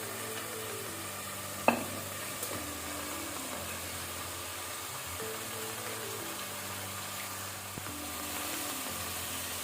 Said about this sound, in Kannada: ಒಂದು ಮಿನಿಟ್ ತರಕಾರಿಯನ್ನು ಫ್ರೈ ಮಾಡ್ಕೊಳ್ಳೋಣ ಮೀಡಿಯಂ ಫ್ಲೇಮಲ್ಲಿ.